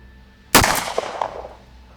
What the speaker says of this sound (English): you got a decent amount of recoil with that 45 long Colt